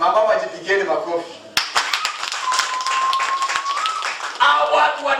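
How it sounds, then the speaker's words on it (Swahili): A church congregation in Busia claps hands together in a burst of sharp, rapid claps alongside a loud voice, with talk both before and after the clapping. "Unaona mama wajipigeni makofi."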